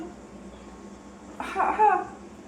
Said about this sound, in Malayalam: ചുമ്മാ ചേട്ടാ ഇടയ്ക്കിടയ്ക്ക് ഓരോ ചുമയുണ്ട്